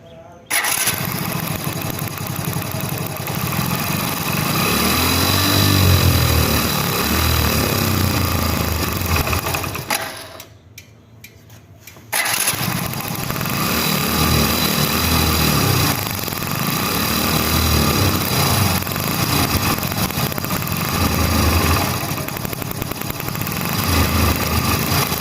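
A Moon Auto motorcycle engine with a misfire runs close by, a rough, uneven idle broken by a brief cut-out near the middle before it picks back up and keeps sputtering irregularly.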